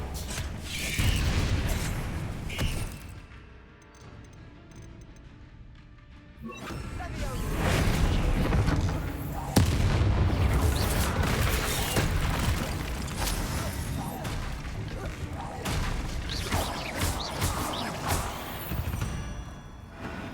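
Spell blasts from Confringo and Bombarda in Hogwarts Legacy land as booming bursts and crashes, a burst early, a lull, then a dense run of loud impacts and rumbles, with no talk.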